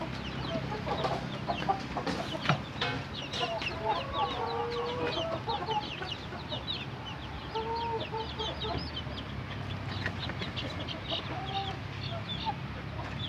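Free-range village chickens cluck and chatter continuously close by, a busy flock of short, overlapping calls over a low background hum, with no talking.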